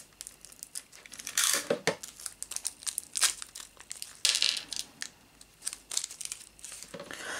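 A plastic bag holding screws and bolts from a Tutankhamun mask model kit is torn open and handled, giving loud, irregular crinkling and crackling bursts close to the mic, with no talking.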